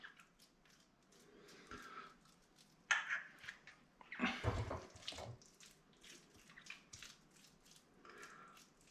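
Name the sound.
washing hands under running tap water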